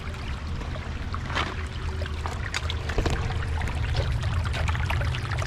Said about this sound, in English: All that water's coming out of those two corrugated pipes behind this wall.